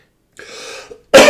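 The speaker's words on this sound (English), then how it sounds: "Sorry, I've got a terrible cough now." A single throaty cough, close and loud, preceded by a brief rasping breath.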